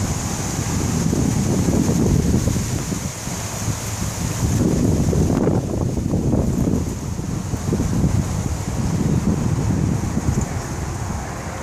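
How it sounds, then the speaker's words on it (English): Strong gusting wind on a veranda, loud roaring buffets battering the microphone in surging waves with brief lulls between gusts. "It's impossible to keep the veranda swept and the leaves off when we have winds gusting like they are right now."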